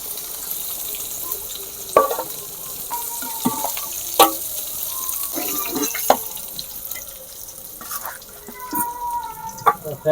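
Stuffed pointed gourd (potal) cooks in a pan, giving a soft, steady sizzle broken by irregular clinks and scrapes of a utensil, with occasional speech nearby.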